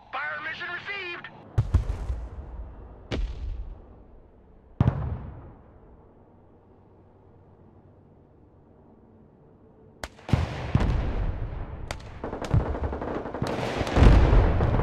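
Mortar fire mission in the video game Broken Arrow: loud, sharp impacts and booming blasts arrive in an irregular sequence, with rumbling decay between them and a dense cluster of explosions near the end.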